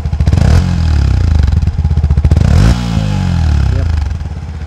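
A Yamaha WR155R motorcycle engine revs hard up close, its loud buzzing pitch climbing, dropping and rising again in repeated throttle blips.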